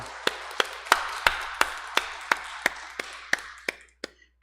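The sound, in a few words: congregation clapping in church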